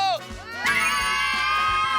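A family shouting a cheer together at a family sports day, a short host call followed by a loud sustained group yell of children's and adults' voices.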